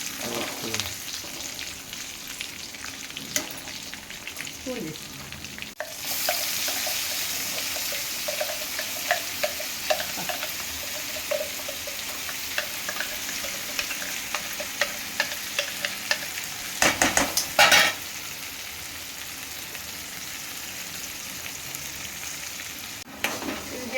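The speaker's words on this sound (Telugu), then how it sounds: "నెక్స్ట్ మసాలా వేసి కొంచెం ఫ్రై చేసుకున్నాం" Masala spices frying in a pan with cumin and onions for ivy gourd (kundru) kurma, a steady close sizzle running throughout, with stirring scrapes and a brief louder clatter near the end.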